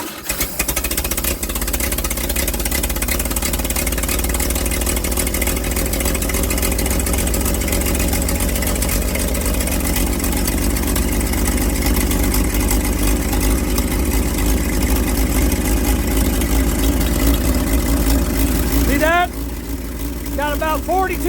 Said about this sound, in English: Just have to choke on this thing so it's a higher idle.